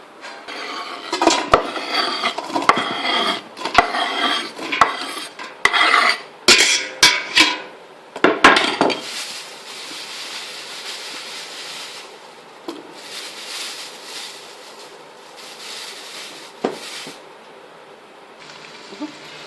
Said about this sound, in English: As you can see, that's sauteing now.